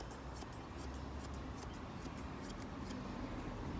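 Scissors cut a dog's fur during home grooming, a steady run of soft, rapid, close snips over quiet background hiss, with no voices.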